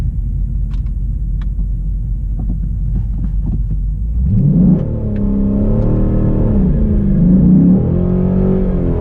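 A Chrysler 300 SRT8 with bolt-on modifications idles with a deep rumble on a race track, then revs up hard and accelerates. The loud engine note rises in pitch through the gears, with no talk.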